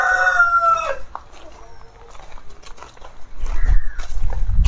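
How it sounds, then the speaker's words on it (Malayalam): Country chickens, roosters and hens at a farm, a loud near rooster crow at the start followed by scattered clucking and a second crow, with outdoor bustle later. "ഇതൊക്കെ പൂവൻകോഴിയും പിടക്കോഴിയും ഉണ്ട്."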